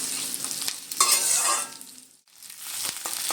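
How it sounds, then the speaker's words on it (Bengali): Onion, green chili and garlic fry in a pan for a spinach bharta, a close, loud continuous sizzle with stirring scrapes and a brief dip in the middle before the crackle resumes, with no voices. "বেশ কিছুক্ষণ ধরে আমি পেঁয়াজ আর কাঁচা লঙ্কা, রসুন কিন্তু ভেজে নিচ্ছি"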